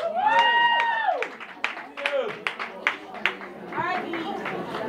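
Sparse, scattered claps from a small audience follow a song, a handful of separate hand claps heard between stretches of someone speaking nearby.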